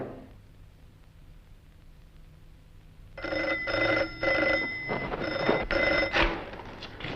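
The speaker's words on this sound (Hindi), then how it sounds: "आपका फोन" An old-fashioned telephone bell rings in bursts in an office scene of a Hindi thriller film, loud and close after a quiet stretch of low room noise.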